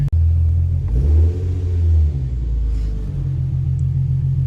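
Engine of an Infiniti Q50, running cold, revs up steadily once at close range, with a loud low rumble, then the RPM hangs and settles back to a heavy idle.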